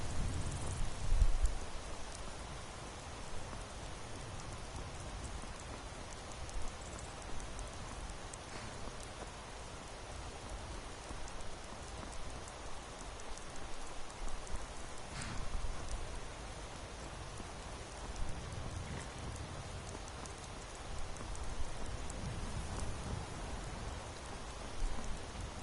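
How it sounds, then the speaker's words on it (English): Rain falling steadily in the video game Skyrim, with light wind, a soft continuous patter and hiss that holds fairly even throughout, with occasional low gusts. "It's raining and it seems to be a bit windy."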